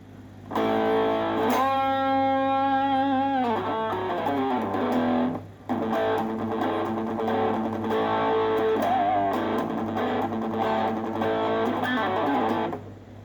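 A distorted electric guitar with distortion at half gain rings out in sustained, overdriven chords and bends, loud and steady, with a brief gap midway and no talking.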